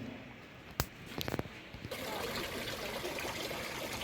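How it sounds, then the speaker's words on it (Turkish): Water trickles and splashes steadily outdoors on a European town street, a continuous close gurgling wash that grows fuller midway, with someone speaking over it. "Su sesi her zaman güzel."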